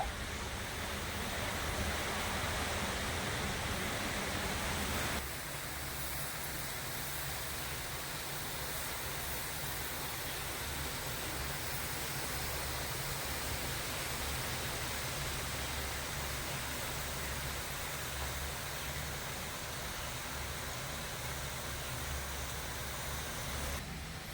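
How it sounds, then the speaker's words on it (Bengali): Mung dal jalebi, a Medinipur-style sweet, frying in hot oil at medium heat gives a steady, even hiss that continues throughout and drops slightly in level a few seconds in. "বাদ বাকি জিলেপিগুলো ঠিক আমি একভাবে ভেজে নেবো"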